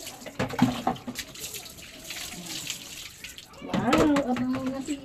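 Tap water runs for a dog's bath, splashing steadily and growing louder toward the end, with a person talking over it.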